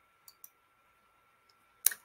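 A single sharp mouse click on a blue Save Photo button in photo-editing software, heard near and alone at the end, preceded by a couple of faint ticks in otherwise quiet room tone.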